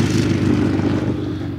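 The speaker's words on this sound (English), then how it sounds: "as a motorcycle goes by" A motorcycle rumbles past nearby, its loud, throaty engine steady and then easing slightly as it moves away. No one speaks.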